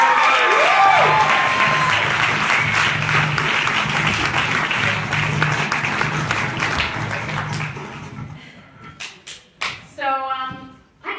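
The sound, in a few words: audience applause for a stand-up comedian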